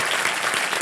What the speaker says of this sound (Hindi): जोरदार तालियां इन कपल के लिए, जोरदार तालियां